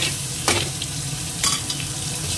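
Chopped onion frying in a pan, a steady close sizzle broken by two brief scraping stirs of a spatula.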